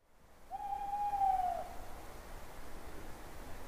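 A single soft, steady owl hoot sounds out, faint and somewhat distant, against a quiet hiss of background noise.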